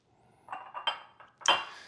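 Diced red onion dropped into a mixing bowl, a few quick soft clinks and pattering taps ending in one sharper knock, close and quiet with no talk.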